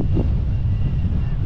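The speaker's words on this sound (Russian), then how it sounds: "какой от него ветер пошел, и у девушки он кепку сразу сдуло" A blast of wind from a low passing airplane hits a beach, buffeting the microphone with a dense, low rumbling roar that holds steady for a second and a half.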